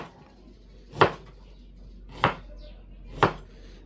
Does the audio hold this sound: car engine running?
no